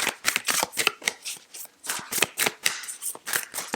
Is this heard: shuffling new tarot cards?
yes